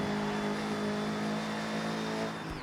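A VW Beetle fitted with a 2.5 litre boxer engine in Forza Horizon drones at steady high revs, a constant loud engine tone that barely changes before easing off briefly at the end.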